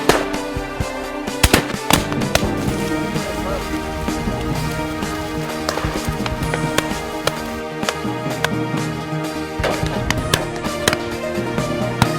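Rapid, sharp shotgun reports crackle throughout a partridge and pheasant shoot on a Dorset country estate, dense and loud, with voices underneath.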